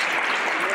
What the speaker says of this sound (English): Let's give a round of applause for Joey and the great job that he did in Paterson.